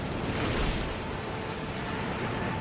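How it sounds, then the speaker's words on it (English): Big waves slam against the hull of a sailing boat far out at sea, a steady loud roar of surf and rushing water with wind buffeting the microphone throughout. "Big waves are slamming against the side of the boat."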